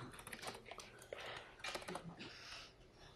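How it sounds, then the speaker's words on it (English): Fingers tap away on a computer keyboard during a computer systems lecture, a quiet, uneven run of clicky keystrokes in short bursts, picked up faintly from a distance. "I'm typing it, but it's not respecting my caps lock."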